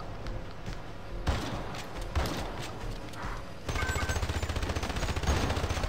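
Rifle gunfire in the video game Hypercharge: Unboxed, bursting in dense rapid volleys that grow steadier and louder toward the end, layered over busy game noise.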